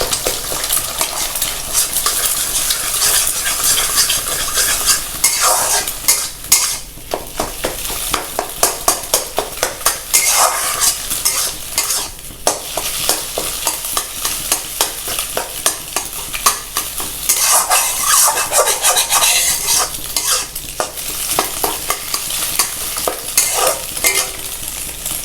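Egg is stir-fried into crumbles in a pan, with a continuous sizzle under loud, rapid, rhythmic scraping and clattering of a metal spatula against the pan.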